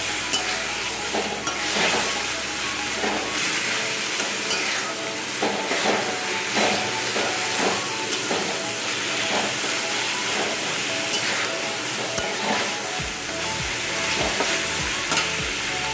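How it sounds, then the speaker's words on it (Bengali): Coconut paste frying in a hot pan for a Bengali vegetarian kochu saag dish, a steady loud sizzle with stirring scrapes throughout, close and continuous with no talking. "নারকেল পেস্টটা দিয়ে একটু কষে নিই"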